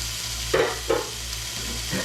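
Ground beef fries in an ungreased hot pan for army-style yakisoba, giving a steady close sizzle broken by two brief scraping stirs.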